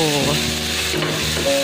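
Corned beef poured into hot margarine in a pan and stirred as it fries for a single serving of milky instant noodle soup, giving a steady close sizzle with scraping stirs and no talk.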